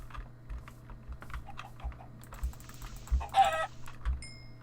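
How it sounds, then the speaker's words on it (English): A Minecraft chicken clucks in short bursts, quiet and intermittent, under steady close clicking from a computer keyboard. "Another chicken."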